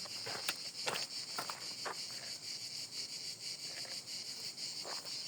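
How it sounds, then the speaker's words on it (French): Cicadas along the Stevenson trail (GR 70) in southern France give a steady high-pitched drone, with scattered soft crunching steps or knocks beneath it and no talking. "depuis 1 ou 2 jours, les cigales sont présentes"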